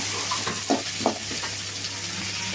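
Onions and curry leaves sizzle in hot oil for a spicy pepper crab fry, a steady close hiss broken by a few soft stirring scrapes, with a low constant hum underneath.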